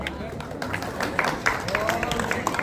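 An audience at a school sports competition claps in a dense, steady patter, fairly close, with crowd murmur mixed in throughout.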